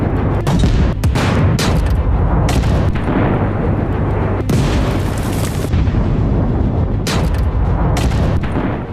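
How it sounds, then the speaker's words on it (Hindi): Salvos of Katyusha rockets launched by Hezbollah from the Lebanon border toward the western Galilee area make a dense roar of loud, overlapping booms and blasts that barely let up for the whole stretch, with no voices. "हिजबुल्लाह लगातार लेबनान बॉर्डर से वेस्टर्न गलील इलाके में 10-10 के ग्रुप में रॉकेट फायर कर रहा है।"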